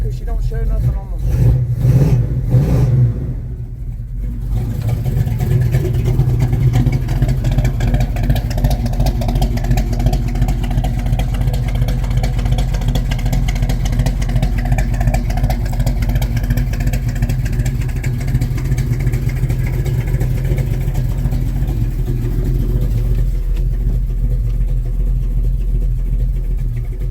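Engine of a 1969 Chevrolet El Camino idling steadily for nearly half a minute, a loud, even, low rumble that stays constant throughout and dips briefly after a few seconds.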